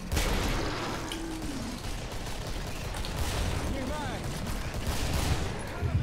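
Shotgun blasts in the co-op shooter Killing Floor, a dense run of loud booming shots in quick succession amid chaotic game noise, with a voice talking over the action.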